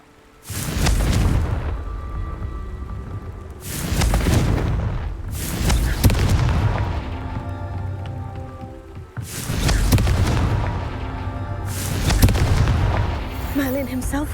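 Confringo blast spells in Hogwarts Legacy burst as a series of heavy booming explosions, roughly five loud impacts spaced a couple of seconds apart, each trailing into a crackling rumble, with a voice calling out among them.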